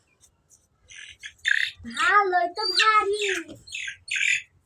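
A desi chicken squawks loudly and repeatedly at a market stall, harsh cackling calls close by, while a person speaks briefly.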